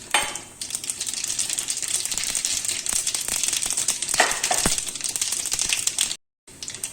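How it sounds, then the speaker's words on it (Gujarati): Sesame seeds sputter in hot oil in a kadhai during tempering, a loud, continuous crackling sizzle with sharp pops, cutting off briefly near the end before resuming. "હવે આપણે એમાં તલ નાખીશું વઘારમાં।"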